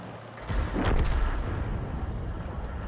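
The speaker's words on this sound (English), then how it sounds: "And he fires a round in, he got a hit." A single heavy shot from an S-51 self-propelled artillery piece in the World of Tanks game, a deep boom followed by a long rumbling tail that carries on to the end.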